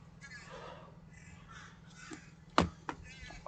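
Crows caw outdoors, with one loud, close caw standing out against a quieter background of softer calls and faint ambient noise.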